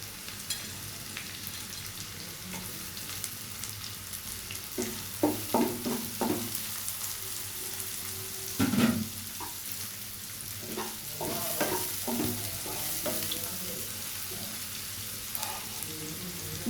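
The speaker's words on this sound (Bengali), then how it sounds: "দিয়ে দিচ্ছি পেঁয়াজ কুচি এখানে আমি তিনটি মাঝারি সাইজের পেঁয়াজ কুচি করে নিয়েছিলাম" Chopped onion added to hot oil with minced ginger in a pan, giving a soft continuous sizzle with scattered spatula clicks and scrapes, fairly quiet and close, with no one talking.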